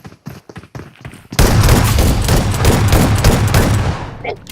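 Shotgun fire in a multiplayer video game: a few scattered muffled thumps, then a loud, dense run of rapid blasts that keeps going for about three seconds before fading out.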